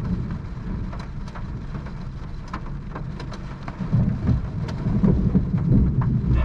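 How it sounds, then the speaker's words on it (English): A Florida supercell thunderstorm: heavy rain hisses steadily while thunder rumbles low and swells louder in the second half, with scattered sharp crackles and no talking. "Has to be the craziest Florida storm I've ever witnessed in my life."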